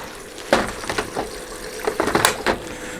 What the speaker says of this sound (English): There's water coming in.